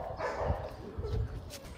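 A rescue dog at an animal sanctuary gives a few soft, muffled barks and yips up close, mixed with low background noise and a faint human voice.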